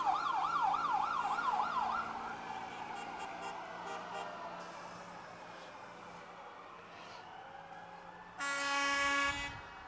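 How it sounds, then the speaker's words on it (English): Fire department sirens at a Santa Fe Trail Daze parade wail loudly with rising and falling tones, then hold steady, and end in a sharp, loud horn blast. "They have a lot of sirens going"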